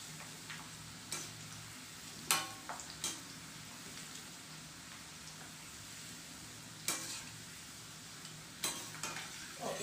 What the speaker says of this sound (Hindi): ये हमें इस तरह से सेक लेनी है क्रिस्प होने तक।